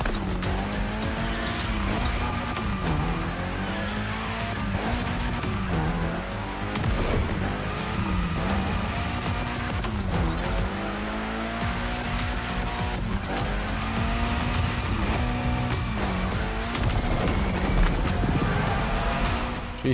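A car in The Crew Motorfest racing game is driven on a Japanese touge mountain road, its engine revving up and down steadily while tires squeal repeatedly through tight turns, loud and close for the whole stretch.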